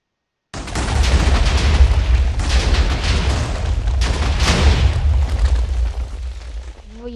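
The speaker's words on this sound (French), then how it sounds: "Ça va faire péter l'arbre." A TNT minecart cannon blasts a tree apart in the video game Minecraft, a sudden loud explosion after a brief silence followed by a rolling, crackling series of booms that slowly fades.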